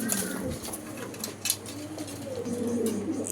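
Karakari pigeons, including jet-black birds offered for sale, coo steadily in low rolling calls. A market-like background murmur runs beneath.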